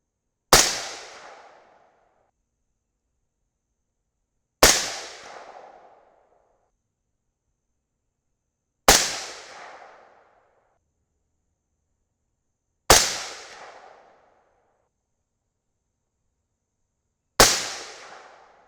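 Five evenly spaced shots from a .223 Rem rifle loaded with 77gr Berger OTM Tactical bullets, each a sharp loud crack trailing into a short echoing decay, with silence of about four seconds between shots and no voices.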